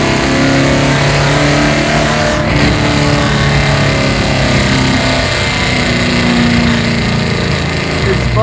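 Garage-built 1972 Plymouth Duster NASCAR-style car with its engine pulling hard under acceleration, a loud steady roar heard from inside the car without a break.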